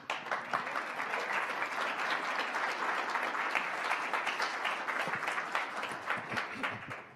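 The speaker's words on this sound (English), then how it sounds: "Let's clap for real people." An audience at a Canadian Club business luncheon applauds, steady dense clapping lasting the whole stretch, fairly distant and even, with a few louder claps standing out.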